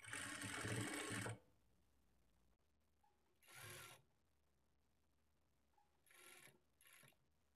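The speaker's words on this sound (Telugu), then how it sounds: "ఇలా స్టిచ్ చేసుకున్న తర్వాత ఈ చివరన ఒక స్టిచ్ వేసుకోవాలి." A sewing machine stitches blouse cloth in a loud burst of about a second, then shorter runs follow after pauses, with faint handling noises between them.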